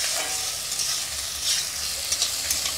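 Chopped onion, garlic and ginger fry in hot oil in a pan toward light browning, a dense continuous sizzle with a few stirring scrapes, close and fairly loud, with no voices.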